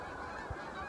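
Geese honk faintly in the distance outdoors, a thin continuous clamor of calls from a flock, brief and low in level with no nearby voices.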